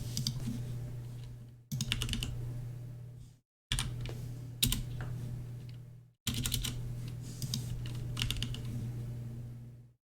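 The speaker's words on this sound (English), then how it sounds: "So you can hear some nice clickety clacks. Clickety clack, don't clack back." Rapid keyboard typing while a message is written, a steady run of close, crisp clicks and clacks in bursts broken by short pauses, over a constant low background hum.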